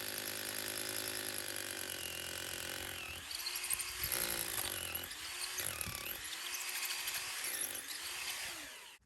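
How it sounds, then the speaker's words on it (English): A loud power drill grinds continuously through a concrete slab, its motor pitch dipping and recovering repeatedly as the bit bites in, with no voices. "drill the hole completely through the entire slab"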